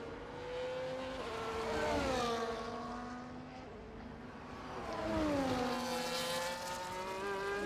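Formula 1 race cars in F1 24 at Monaco roar past with high-pitched engine whines rising and falling as they pass, two clear swells of revving engines over a steady crowded-track drone.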